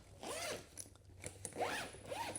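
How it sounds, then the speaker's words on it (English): Zipper on a NOBL suitcase pocket pulled open and closed in several smooth, close strokes, each a rising then falling whir, with short pauses between pulls and no talking. "Really smooth zippers,"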